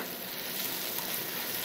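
Tomato sauce and tomato paste frying with pig's feet in a pan give off a steady, soft sizzle with no talk over it.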